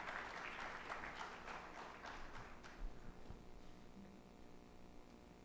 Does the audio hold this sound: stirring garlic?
no